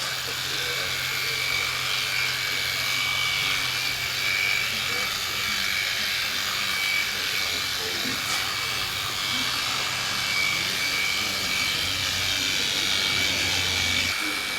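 Electric clippers buzzing steadily as they clip an animal's hair, a continuous high whine with a speaking voice faintly underneath.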